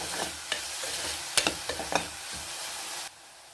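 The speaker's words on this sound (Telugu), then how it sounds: "కొంచెం సాల్ట్ యాడ్ చేసుకుందాము కొంచెం ఇప్పుడు మళ్ళీ ఒకసారి మిక్స్ చేసుకుందాము" Onions with salt stirred in a frying pan: a steady close sizzle with several sharp spatula scrapes and clicks midway, the frying hiss cutting off abruptly near the end.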